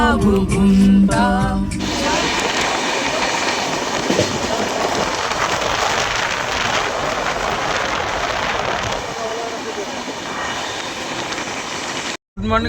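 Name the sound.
Kumbh Express train running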